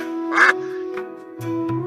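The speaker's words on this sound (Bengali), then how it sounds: "পণ্ডিত মশাই, এটা তো হাঁসের স্বাভাবিক ডাক" A cartoon duck gives a few loud, nasal quacks in short bursts close to the listener, with a steady tone held underneath.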